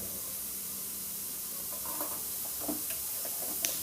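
Beetroot chutney ingredients fry in a pan over a low flame with a steady close sizzle. The scrape and clink of a spoon stirring come in over it toward the end.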